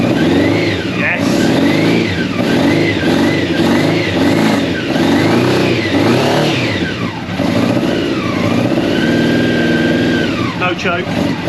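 A Honda CBR race bike engine runs close and loud, revving up and down repeatedly in rising and falling sweeps, with people talking over it throughout.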